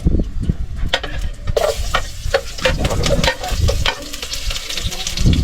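Onions sizzle and fry in a cooking pot for a Filipino lokan (clam) dish, a steady bright crackle with a few stirring scrapes and clacks of a utensil against the pot, close and loud throughout.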